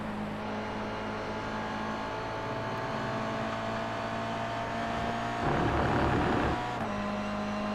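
Race car engine in a GR86 racing video game at Magny-Cours, a steady droning note held down a straight, swelling louder and rougher briefly near the end before settling back.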